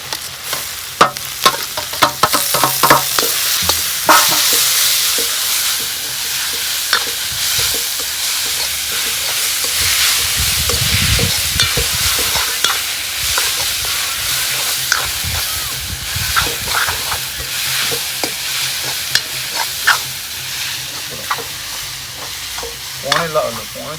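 Grated potatoes and chopped chillies fry in a pan with a steady close sizzle, hissing steam and repeated scraping stir strokes throughout, with a deeper bubbling surge around the middle and no talking.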